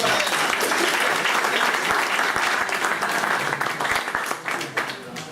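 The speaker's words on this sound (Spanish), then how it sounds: "Bravo, un aplauso para" Audience applause for a volunteer joining a live melon demonstration on stage, a dense burst of clapping that holds steady and then thins out toward the end.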